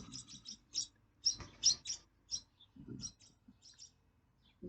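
Baby birds chirp from a nest in repeated short bursts of high, thin tweets, fairly close, with a parent bird nearby; no talking.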